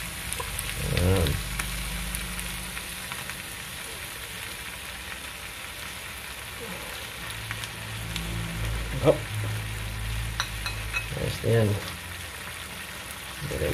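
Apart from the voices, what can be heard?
dried fish (tuyo) frying in oil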